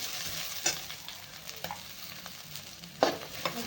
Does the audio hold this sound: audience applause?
no